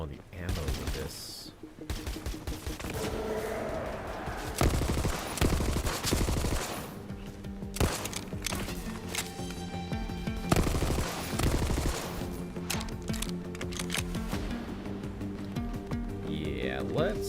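Dense bursts of automatic gunfire sound from the Borderlands shooter, rapid overlapping shots and fusillades that run almost without a break over a loud game soundscape, with occasional single cracks and a voice talking underneath.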